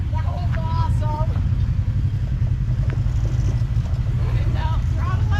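Polaris RZR UTV engine droning steadily and loud on a Tennessee trail ride, a low continuous rumble with throttle swells, with people talking and whooping over it.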